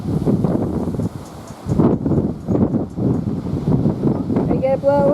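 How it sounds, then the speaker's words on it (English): Strong gusts during a windstorm buffet the microphone, giving a loud, rough, rumbling roar that surges and dips, with a voice speaking briefly near the end. "Are you liking the wind, Diego?"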